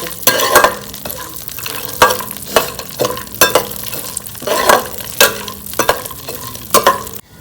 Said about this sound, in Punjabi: ਆਪਣੇ ਡਰਾਈ ਫਰੂਟ ਰੋਸਟ ਹੋ ਗਏ ਜੀ